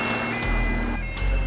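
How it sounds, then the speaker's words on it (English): A Scalextric slot car modelled on a Soviet police car from a Bond film sounds its electronic siren, a loud, steady wailing tone over a low motor rumble, close by. "The siren sound is already spot on to the movie sound effects coming from the Soviet police cars."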